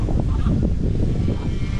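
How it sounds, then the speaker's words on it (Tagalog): An unusual chicken-like fowl at an outdoor camp honks and calls repeatedly in short bursts over steady background noise, fairly close, with no talk. "At saka may kakaibang manok oh."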